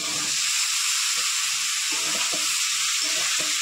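Boiled potato and elephant foot yam hitting hot spice masala in a pan, a loud continuous sizzle with broken lower stirring and scraping sounds close by.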